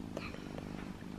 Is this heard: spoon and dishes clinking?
no